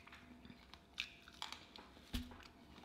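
Crunchy hog cracklins, fried pork skin with meat and fat, being bitten and chewed up close, with a few sharp crunches standing out over soft, steady mastication and no talking.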